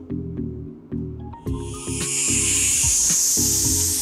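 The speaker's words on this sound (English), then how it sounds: "It's snake." A snake hissing in a steady, sustained rush that swells in and keeps going, over faint rhythmic background tones.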